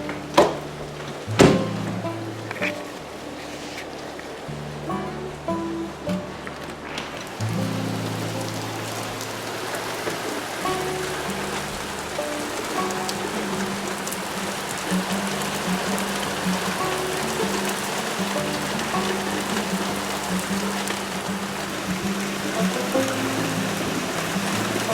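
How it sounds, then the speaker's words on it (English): Steady rain falls throughout, a dense continuous patter on surfaces close by. A few sharper knocks come early on, and a low background hum sits underneath. No one speaks. "All right, the rain"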